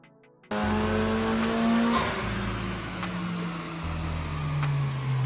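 A Mitsubishi Evo 9 Wagon with a new front pipe and dump pipe revs hard on a dyno. The engine rises in pitch, drops back, then climbs again, loud and close with no talk.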